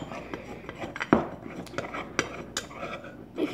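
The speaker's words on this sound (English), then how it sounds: "I'm gonna actually use my knife for this." A knife stirs and scrapes homemade lip scrub inside a small container, making scattered clinks, taps and scraping strokes at close range with light background noise.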